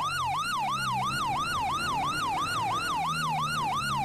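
Police car siren from GTA 5, a loud, continuous wailing yelp that sweeps up and down rapidly in a steady repeating cycle, with a low vehicle engine rumble underneath.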